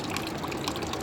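Water runs from a roadside pipe in a brief, steady rushing gush, close and fairly loud, with no voices.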